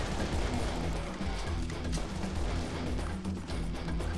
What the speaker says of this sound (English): they're shooting rockets too. Getting shot up.